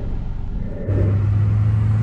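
A truck drives through town, its engine a steady low rumble inside the cab that swells partway through as it accelerates, with no talking.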